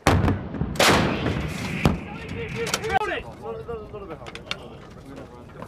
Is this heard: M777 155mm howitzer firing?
yes